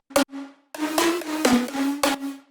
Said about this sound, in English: add this ride sounding thing